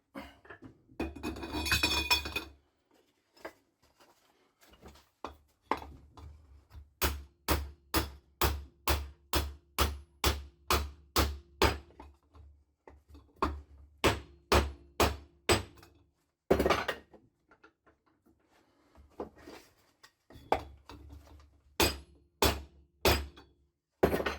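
A hammer taps a heated bearing onto a gearbox shaft during a Mazda MX5 NC transmission rebuild, a long series of sharp metallic knocks in quick regular bursts with short pauses between them, close and loud with no talk.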